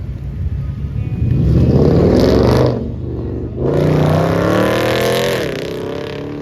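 An SRT Jeep revs loudly and close at a cars and coffee meet. The engine roars, dips briefly, then surges again in a long, throaty rumble.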